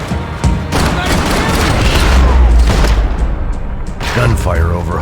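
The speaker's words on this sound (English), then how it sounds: "Gunfire over Hoboken." Gunfire in Max Payne 3 over Hoboken, a loud sustained volley of shots and booming blasts filling several seconds, with a voice speaking over part of it.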